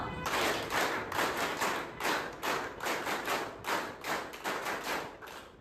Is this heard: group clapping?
yes